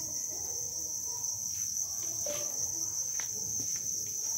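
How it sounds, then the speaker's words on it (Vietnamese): Crickets held in a mesh crate at a buying station chirp continuously in a dense, steady high trill, fairly close and even in loudness, with faint knocks underneath. "Đây, con dế rất là tuyệt vời."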